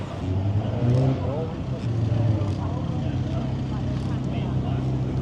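Cars roaring past on a busy bank holiday street crowded with motorcycles, a continuous loud engine drone with rising revs, close by, mixed with crowd noise and talk.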